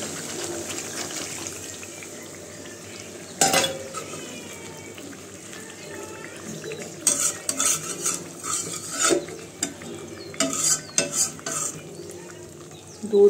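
Milk goes into a cooking pot with oil and is stirred, giving clattering spoon scrapes and liquid sloshing with bursts of louder activity, close by.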